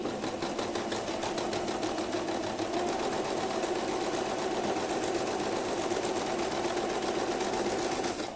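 A sewing machine stitches a seam in fabric, running in one continuous close, rapid mechanical whir with a fine steady rhythmic ticking and no pauses.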